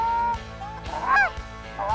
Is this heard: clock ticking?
no